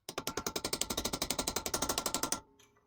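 A hammer strikes a chisel in a fast, steady run of about twenty-five sharp metallic blows, close and loud, before stopping abruptly and leaving a faint ringing tail.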